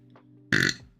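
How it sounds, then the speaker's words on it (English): A single loud human burp about half a second long, close and clear, with a quiet background hum and a faint murmur just before it. "Having never heard any of my other burps before, what would you rate that one?"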